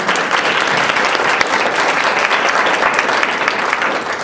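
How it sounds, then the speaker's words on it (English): A room of event attendees claps in sustained, dense applause, loud and close, holding steady before tapering slightly at the end. "Big round of applause for everyone."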